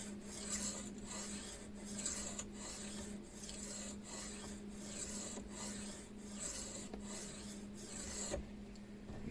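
A knife is drawn across the stone of a Ruixin Pro precision sharpener in quick, regular rasping strokes, roughly a dozen close, even scrapes in steady rhythm with no talk.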